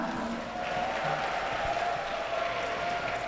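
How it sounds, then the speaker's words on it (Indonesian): An audience at the opening of an Islamic education tutorial event claps together, a steady, moderately faint wash of applause filling the room with no talk over it. "Tepuk tangan untuk kita semua."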